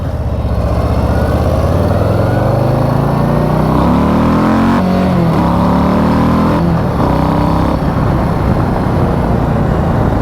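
Indian motorcycle engine revving hard while riding, loud and close, with rising and falling pitch sweeps as it accelerates through the gears and backs off, continuous engine roar throughout.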